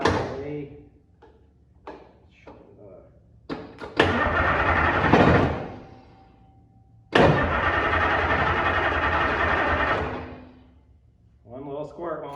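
A 9-liter International diesel engine cranks and catches twice, each time roaring loudly for a few seconds before dying away, with a voice talking in the quiet gaps.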